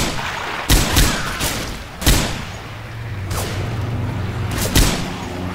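Gunfire in the video game Left 4 Dead 2, a few loud separate shots and short bursts spaced about a second apart, close and sharp over a low rumbling background.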